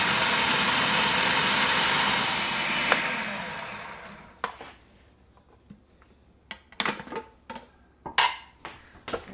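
A food processor pulses herbs with pepper: a loud, steady motor whir for about four seconds that winds down and stops, followed by scattered light clicks and clatter.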